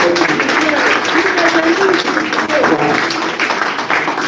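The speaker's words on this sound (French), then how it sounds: "Encore un tonnerre d'applaudissements pour le roi de la" Thunderous applause from the audience at a press conference for a Congolese singer, dense and sustained, with voices talking underneath the clapping.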